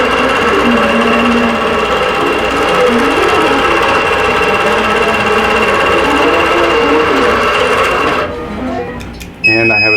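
Longarm quilting machine stitching a full spiderweb pantograph row across a quilt, a fast steady mechanical needle chatter with a whirring hum that cuts out abruptly near the end, followed by brief clicks.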